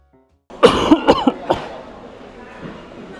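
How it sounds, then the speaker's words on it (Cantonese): Several sharp coughs in quick succession, close and loud, followed by a short stretch of quieter room noise. "有時食下飯，突然之間有幾聲咳"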